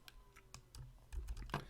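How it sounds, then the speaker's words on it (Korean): Keystrokes on a computer keyboard during a TensorFlow coding session, a run of quick clicks with brief pauses, heard close up with no talking. "우리가 직접 그 타이핑을 한번 해보도록 하겠습니다"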